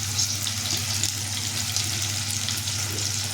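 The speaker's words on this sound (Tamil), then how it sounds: "அந்த எண்ணெயில் போட்டு இப்போ வதக்குறோம் நல்லா பொன்னிறமாக வதங்கணும்" Onion and garlic sizzle and fry steadily in oil in a pan for a tamarind-style gravy with manathakkali berries, a loud, close, continuous crackle with no talking.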